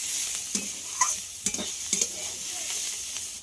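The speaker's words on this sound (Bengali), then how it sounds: "যেহেতু আমি উনুনে করছি তাই ধিমে আঁচে খুব আস্তে আস্তে করে ভাজছি।" Beetroot and onion stalks fry slowly over low heat on a clay stove, giving a soft steady sizzle broken by a few sharp spoon stirs and scrapes, with no talking.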